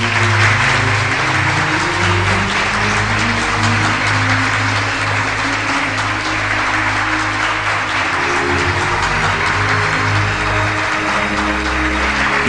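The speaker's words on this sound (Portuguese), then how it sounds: "Estas palmas são para você." An audience applauds a man named Milton Luiz Pereira, a dense and loud clapping that stays steady from start to finish.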